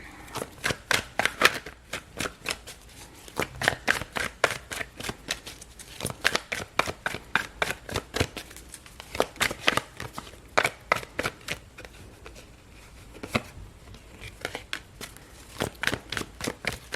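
Tarot cards are handled and shuffled up close, making a steady series of crisp, sharp flicks and slaps in quick rhythmic bursts with brief pauses between them.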